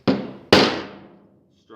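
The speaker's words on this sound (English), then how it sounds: "then we'll strike it with just a common hammer" A common hammer strikes a rivet head twice, two sharp ringing metallic impacts close by, the second louder with a longer decay, followed by a faint start of talking.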